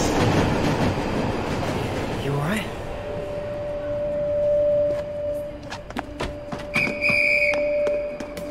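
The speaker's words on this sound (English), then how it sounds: "There's a train." A train rolls past in the video game Last Stop, a loud rushing rumble with a sustained whistle-like tone and sharp metallic clatters toward the end, heard alongside talking.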